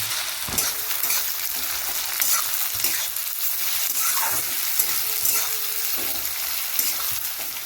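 Onions and chopped green chillies fry for chow mein in a hot pan, giving a loud, dense, continuous sizzle with soft stirring scrapes and no voices.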